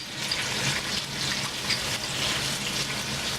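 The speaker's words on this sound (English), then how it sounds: "we hear our oils popping" Oil popping and sizzling in a hot pan as garlic and shallot go in, a steady close crackle and hiss filling the whole stretch with no talk.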